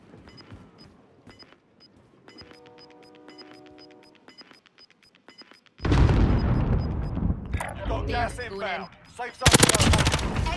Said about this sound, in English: I blew up four C4s right there